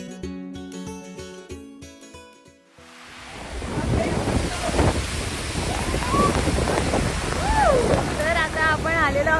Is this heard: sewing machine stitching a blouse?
no